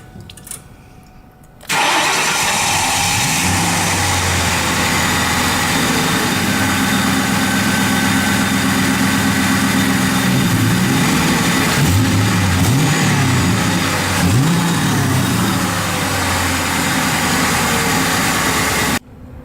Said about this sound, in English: going to start the car up